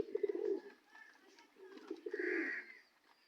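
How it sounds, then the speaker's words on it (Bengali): Pigeons coo softly outdoors among trees, a few low throaty coos in two bursts, near but quiet. "কবুতর"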